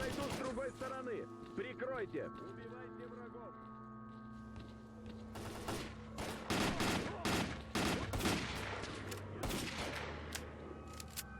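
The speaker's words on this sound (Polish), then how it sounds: "Gościu strzela z dachu z tej broni." Rapid bursts of gunfire in the video game S.T.A.L.K.E.R., a shooter firing from a rooftop, crackling in dense volleys that grow louder in the second half over steady background hum and game music.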